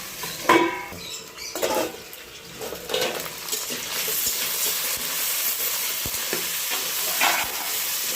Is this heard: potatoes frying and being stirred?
yes